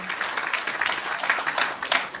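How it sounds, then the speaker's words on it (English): An audience at a town hall people's forum in Kingston applauds the panelists, a brief burst of moderate, fairly distant clapping from a crowd. "Please give our panelists a round of applause for those answers."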